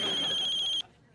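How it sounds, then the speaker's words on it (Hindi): A telephone rings with a bright, trilling electronic tone for under a second and then cuts off abruptly, leaving quiet room sound behind. "लुगाई को फोन नहीं है, मनोहर को फोन है।"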